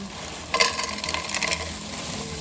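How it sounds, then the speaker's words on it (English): Leftover pork and onions sauté in a pan, a steady sizzle with scraping and clinking of a utensil stirring, busier through the middle stretch, close and moderately loud with no talking. "Today, I'm sauteing pork with some onions."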